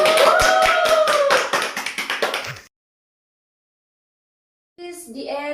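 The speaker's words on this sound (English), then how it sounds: "Big applause." Classroom applause: a short burst of quick, close hand claps from a small group, fading out before a stretch of silence, then a voice begins speaking.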